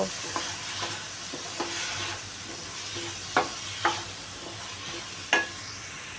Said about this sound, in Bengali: আমি এখানে খিচুড়ি মিক্সটা দিয়ে দিব পোলাও চাল এবং ডাল ভালো করে ভেজে নিব